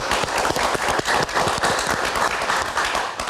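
Dense, steady applause from a live audience for a family band on a music talk show stage, a continuous wash of many hands clapping for a few seconds with little else audible.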